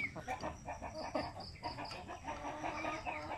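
Native chickens on a Filipino backyard farm clucking and chattering in a low, continuous flock murmur, fairly faint, with soft background noise throughout.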